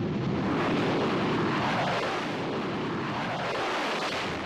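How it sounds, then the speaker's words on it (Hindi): Air force fighter jets roar overhead in a loud, continuous broadband rush, the engine noise swelling and sweeping with a faint descending tone as the aircraft pass. "आसमान में उड़ते वायुसेना के लड़ाकू विमान पलक झपकते ही लाइन ऑफ कंट्रोल के पार"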